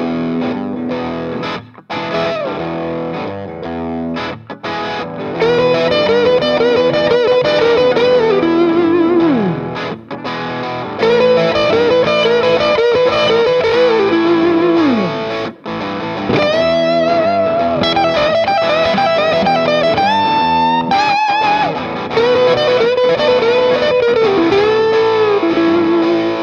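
Distorted electric guitar with an effects unit repeats a blues rock lick in bursts over a steady backing track, bent notes cycling several times, loud and up front with no voices.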